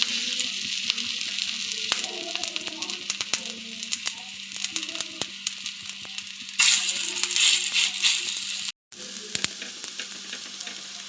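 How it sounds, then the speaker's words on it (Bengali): Kofta-style balls frying in hot oil give a continuous crackling sizzle peppered with sharp pops and spatters, close and fairly loud, with a brief dropout near the end. "এবার কোপ্তার মতো করে ভেজে নেব। তেল গরম হয়ে গেছে, তেলের ওপরে দিয়ে দিলাম।"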